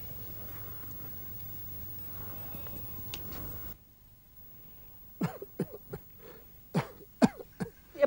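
A man in a Punjabi devotional film coughs from smoking a hookah. Quiet background hum gives way to a string of sharp, close, uneven cough bursts.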